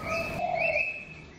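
A perkutut, or zebra dove, gives a short clear cooing call, a brief pair of tonal notes that sound close and moderately loud before fading out.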